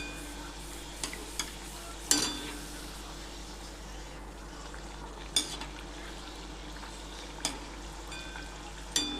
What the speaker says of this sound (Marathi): कमी गॅसवर समोसा छान तळला जाईल, क्रिस्पी होईल छान